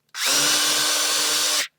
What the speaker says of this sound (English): Then go ahead and pre-drill